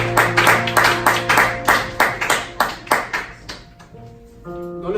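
An audience at a church gathering claps in a loud, steady rhythm for several seconds, then the clapping fades out as sustained ringing tones come in at the end.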